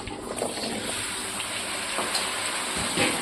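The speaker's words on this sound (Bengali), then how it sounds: "তেল গরম আছে, এর মধ্যে আলুগুলো এবার অ্যাড করে দেবো।" Potatoes drop into hot oil in a pan, a steady, close, bright sizzle and crackle that holds evenly throughout with no talking.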